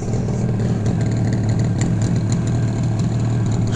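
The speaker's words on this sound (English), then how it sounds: "Listen to this thing. Such a smooth running bike." A 1973 Yamaha RD350 motorcycle engine runs steadily at idle, a close, smooth low hum with a constant throb and no voices.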